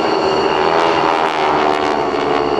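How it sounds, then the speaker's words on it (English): A GEICO Skytypers propeller plane with a 600-horsepower, 9-cylinder Pratt & Whitney R1340 radial engine drones loudly overhead at an air show, a steady close engine roar with no break. "use a 600 horsepower, 9-cylinder radial engine, the Pratt & Whitney R1340"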